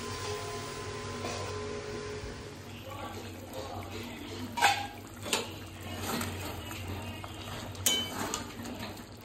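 A lid goes onto a cooking pot in a home kitchen, giving a few clear metallic clinks and knocks up close over a steady background hiss, with faint voices now and then.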